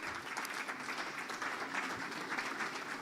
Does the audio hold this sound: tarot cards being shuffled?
no